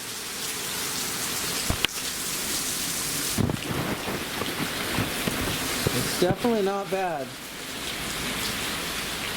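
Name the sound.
rain falling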